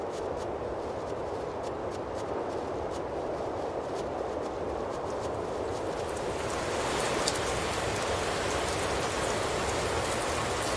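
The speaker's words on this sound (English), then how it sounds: "Great, it's raining." Steady rain pattering down all around in the video game Tales of Zestiria, a dense hiss with scattered sharper drop ticks, growing slightly heavier toward the end.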